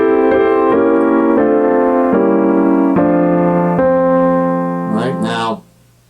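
Jazz electric piano plays a series of sustained chords in locked hands voicing on a phrase, about six even changes up close, then a brief voice speaks as the sound is cut off.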